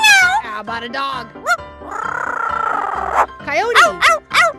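A parrot imitates a cat, giving a string of wavering meows, then a longer drawn-out yowl, then more meows, loud and close, with no talking.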